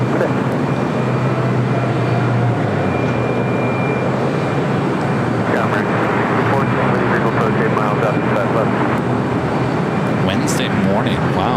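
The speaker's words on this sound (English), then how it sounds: "I do have a United Dreamliner as our next takeoff" A United Boeing 787 Dreamliner takes off at LAX, its jet engines giving a steady, loud broadband roar across the whole stretch, with chatter and background noise mixed in.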